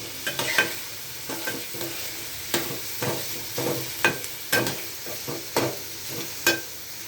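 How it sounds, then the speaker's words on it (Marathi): Onions sauté in a pan until browned, a soft sizzle underneath as a spatula scrapes and turns them in regular, close strokes, each one a sharp scratch that fades quickly. "कांदा चांगला लाल होईपर्यंत परतून घ्यावे"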